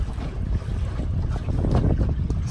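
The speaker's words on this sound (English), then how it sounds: "It's a little breezy out here today" Breezy wind blows across a one-mile-wide lake around a small micro tug boat, with steady low rumbling wind buffeting on the microphone and faint water sounds beneath.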